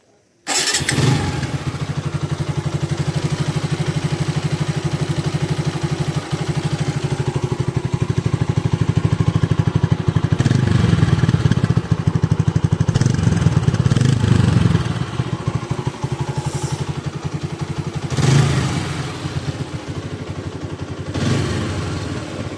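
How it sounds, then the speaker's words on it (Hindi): A TVS Apache RTR 160 4V motorcycle engine runs steadily at idle with a low, even rumble, close by, with a few brief rises in revs and clattery bursts. "इंजन साउंड भी ठीक है।"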